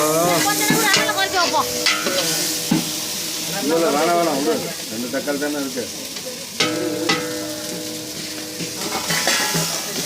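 Onion, tomato and cinnamon-clove powder frying in a pan for mutton sukka, a steady sizzle with stirring scrapes running throughout, while voices speak intermittently over the cooking.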